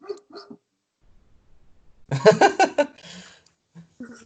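A dog barks at the postman from close by indoors, a quick burst of several sharp barks in the middle, framed by brief snatches of voice and quiet gaps.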